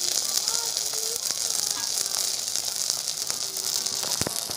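Mustard, ginger and garlic paste sizzling in a hot pan for a Bengali okra dish, a steady broadband hiss with faint crackles throughout, no talking.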